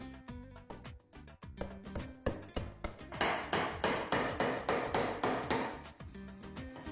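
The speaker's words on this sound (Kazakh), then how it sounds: "суретін салып, соң осы қашау арқылы ойып жасаймыз" A chisel carving a wooden block for a Kazakh saddle, sharp close knocks in a steady rhythm that speeds into rapid repeated strikes, with no talk.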